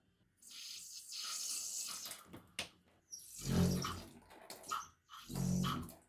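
Water gushes in bursts through an open Delta shower valve body with the cartridge removed, flushing debris out of both sides; loud, close rushing spurts separated by brief pauses.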